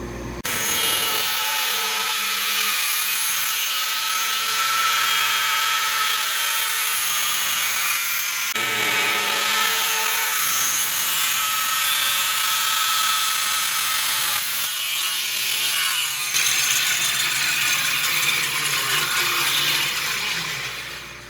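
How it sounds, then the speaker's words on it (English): A band saw on a resaw sled cuts logs into boards, a loud continuous whine and roar that runs almost unbroken across the whole stretch, dipping briefly between cuts, with no voices. "let's get them logs cut out and get my boards made up"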